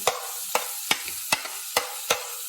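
Chopped onions going into hot oil in a pan: a steady sizzle broken by about six sharp scrapes or stirs at a fairly even pace, close and fairly loud, with no voices.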